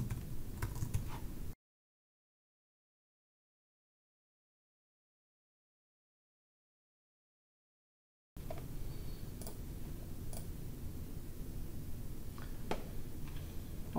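Steady typing on a computer keyboard while entering geologic formation labels in mapping software, soft close clicks heard alone, broken by a long silent gap mid-clip.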